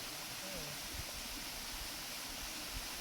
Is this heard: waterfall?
yes